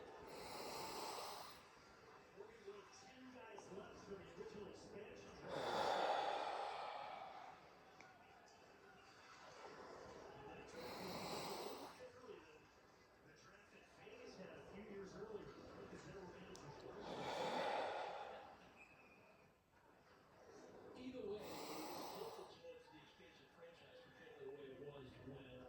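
Slow, audible relaxation exhales during a guided breathing exercise, several long breathy whooshes arriving about every five to six seconds with quiet pauses between, close and soft.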